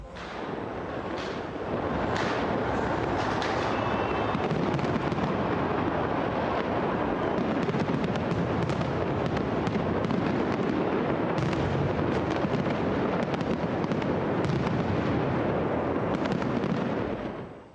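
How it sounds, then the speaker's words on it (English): New Year fireworks burst over the Acropolis in Athens in a continuous barrage of booms and crackles, dense and loud throughout with no pauses. "a spectacular and colorful fireworks display that lit up the ancient monuments of the Acropolis in Athens"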